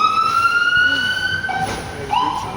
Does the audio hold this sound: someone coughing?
no